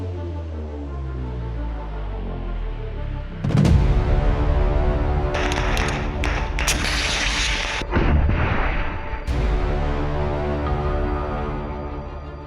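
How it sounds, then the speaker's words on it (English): A missile strike explodes on a Russian trench in Bakhmut with a heavy, close blast, then a series of rumbling secondary bursts and crackling debris over a constant low drone. "Video posted online shows a Ukrainian missile strike blowing up Russian soldiers in Bakhmut"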